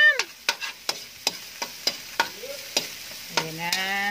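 Pancit canton noodles being stir-fried and toasted in a hot pan, with a steady sizzle and regular scraping stir strokes repeating about every half second, up close and without talk.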